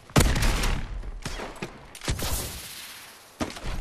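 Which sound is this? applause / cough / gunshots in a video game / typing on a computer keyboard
gunshots in a video game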